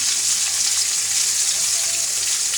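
Rohu fish curry frying in a pan sizzles with a loud, bright, continuous hiss that stays steady throughout.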